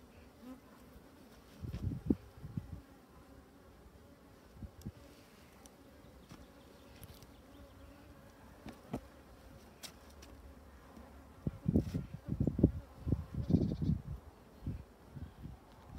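Honeybees from a small colony that grew from a little swarm buzz during a hive inspection, a steady low insect drone with louder bursts of wing noise near the start and again toward the end, no talking.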